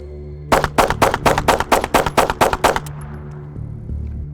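A rapid string of about ten loud pistol shots from a Glock 43X or 48 loaded with ten rounds in a 20-round magazine, fired in quick succession at close range, then quiet.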